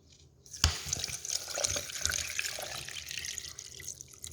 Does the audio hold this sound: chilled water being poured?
yes